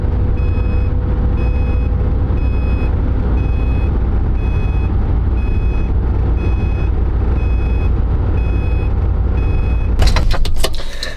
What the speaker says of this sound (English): Seatbelt doesn't work here, so well, you're gonna have to deal with the beeper